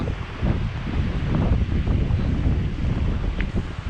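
Waves wash steadily against a shore while strong wind buffets the microphone, making a constant loud roar.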